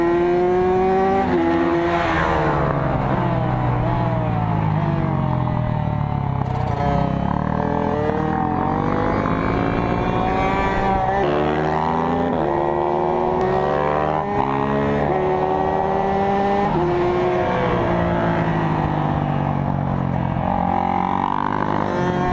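Several small-displacement dirt bike engines, KX65 class, rev and pass one after another at a race track during a time attack day, their whining pitch rising and falling as each goes by, loud and continuous with no talk.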